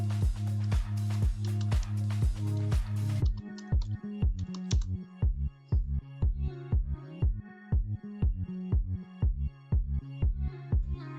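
Someone types on a computer keyboard, producing a steady run of close, crisp keystroke clicks; a sustained musical tone plays under the first few seconds.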